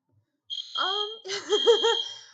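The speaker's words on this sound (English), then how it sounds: "My fire alarm is going off in the dorms" A shrill dorm fire alarm sounds with a warbling, pulsing beep pattern, fairly close and loud, starting after a brief silence.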